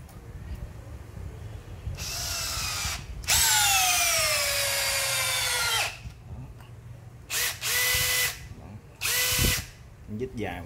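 A Makita DDF083 cordless drill drives a long screw, roughly ten centimetres, into wood in several loud whirring bursts; one long run drops in pitch as the motor labours under load before the clutch cuts out, with short pauses between.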